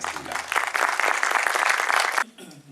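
Audience applause for a university lecturer introduced at a talk, dense and steady clapping from a crowd for about two seconds, then cutting off abruptly into quiet.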